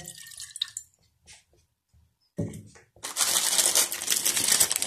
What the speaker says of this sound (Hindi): नूडल्स बॉयल करने के लिए मैं थोड़ा सा पानी डाल रही हूँ छोटी सी प्यारी सी कढ़ाई में